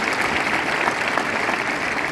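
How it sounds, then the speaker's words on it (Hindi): An audience at a business success seminar in a hall breaks into loud, dense clapping, a steady wash of applause sustained for a couple of seconds without pause. "बजाओ तालियों के लिए एक बार"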